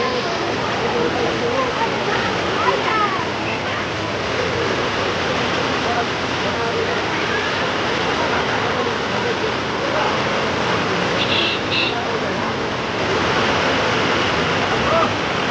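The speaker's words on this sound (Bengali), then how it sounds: "পুরো একদম পুরো অন্যরকম জলের ঢেউ আছে।" Waves of the Ganges at Naihati churn roughly after rain, a loud, steady rushing water roar that fills the whole stretch without a break.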